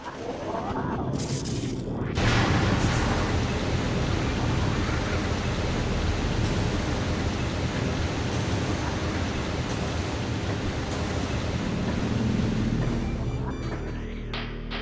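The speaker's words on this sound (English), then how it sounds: "So there we go, we've drained the water." Water drains out of a collecting pool in the video game Metroid Prime as a steady, loud rushing wash that holds for the whole stretch and swells at the start.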